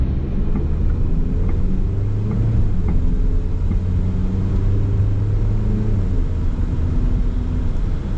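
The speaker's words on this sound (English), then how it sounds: "It shifts out good though." A 1994 Toyota RAV4 L with an automatic transmission runs under load: a loud, close, continuous engine drone with shifting tonal bands as revs rise and fall.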